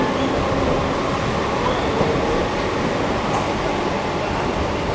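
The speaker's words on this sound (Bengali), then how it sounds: "আর আমাদের ট্রেন সাঁতরাগাছি থেকে লিভ করছে।" A Digha-bound local train pulls out of Santragachi station, its steady broadband rumble and rolling rattle filling the cabin evenly and loudly throughout, with no talk.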